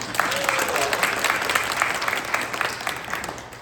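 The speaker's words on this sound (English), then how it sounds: "Let's give them a round of applause." Town hall audience applauding in a rural Kansas gathering, a steady wash of many hands clapping at moderate volume throughout, with no one speaking over it.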